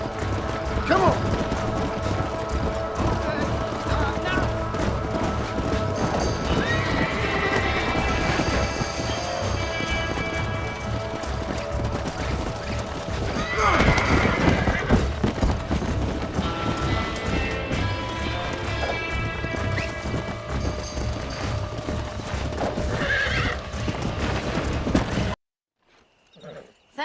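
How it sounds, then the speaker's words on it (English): A stallion galloping in the Western game Red Dead Redemption, rapid hoofbeats drumming steadily over a busy bed of game noise for most of the stretch before cutting off abruptly near the end. "Hey, the stallion's getting away! Chase him down and bring him back"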